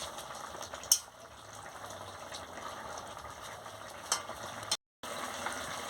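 A pan of vegetable curry with fried bitter gourd, lentil dumplings, potato, carrot, drumstick and eggplant simmers with a low, steady bubbling hiss, a few sharp clinks, and a brief silent cut near the end.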